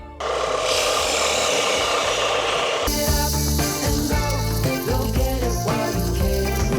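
A loud, continuous abrasive grinding from a ProCraft BDS400S belt and disc sander working against material, shifting in tone partway through without pause.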